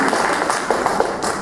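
An audience at a school alumni get-together applauds, a dense steady roar of many clapping hands filling the hall, loud and close throughout.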